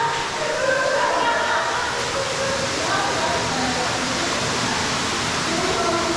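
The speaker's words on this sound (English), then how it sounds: "That definitely found the waterfall." A waterfall roars inside a cave, a steady, loud broadband rush of falling water that holds constant throughout, with faint voices underneath.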